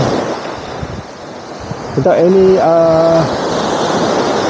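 Surf rolling onto the sand at Desaru beach in Johor, a broad continuous roar mixed with wind buffeting the microphone, while a voice briefly speaks partway through.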